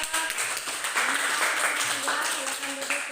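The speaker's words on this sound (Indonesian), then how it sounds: "tepuk tangan untuk kelompok 3" A classroom of students applauds group 3 in a dense, continuous wash of clapping, with voices talking over it throughout.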